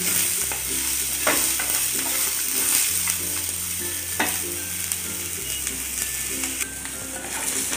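Masala with onion fries in a pan with a steady sizzle, while a spoon stirs and scrapes against the metal in quick, regular strokes close by.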